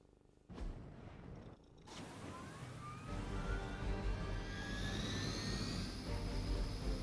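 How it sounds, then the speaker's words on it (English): A Hydra helicopter in the video game Marvel's Midnight Suns sounds with a rising whine and roar that builds into a loud, sustained engine rush after a short quiet start. "Disable the Hydra helicopter before we can depart."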